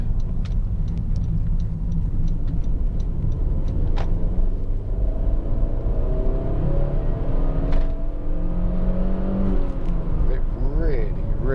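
A Honda Civic 1.8 i-VTEC EX GT hatchback engine rumbles under a steady low drone, with revs rising and falling in smooth sweeps while a person talks over it from inside the car.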